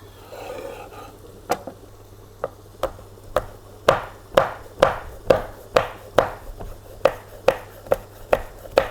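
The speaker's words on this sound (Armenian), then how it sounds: "Կարող ենք այս պղպեղը արդեն մանրացնել։" A knife chops a pepper steadily on a cutting board, sparse at first then settling into a quick, regular rhythm of crisp, close taps.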